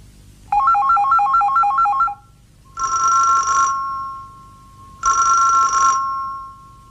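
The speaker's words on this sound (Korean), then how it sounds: "전화 왜 안 받나요?" A telephone rings indoors in a quiet room: first a fast electronic warbling melody, then two long bell-like trills with a short pause between them, loud and alone.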